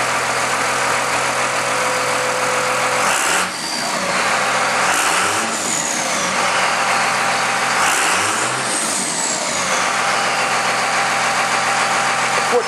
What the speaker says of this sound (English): Rev her up a little bit, too.